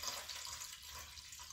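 Measured water pours steadily into a kitchen dye bath for dyeing cotton yarn, a continuous soft splashing hiss, close but faint, with no talking.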